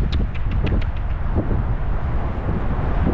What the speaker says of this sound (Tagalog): Mahangin pa, no?